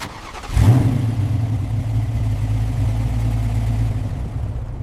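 A restored Ford Mustang's engine catches at about half a second and settles into a steady, loud, deep exhaust rumble that runs close and unbroken to the end.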